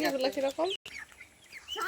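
Chickens cluck at a roadside poultry seller's stall, short bursts of fowl calls close by, with people talking around them and a brief dropout midway.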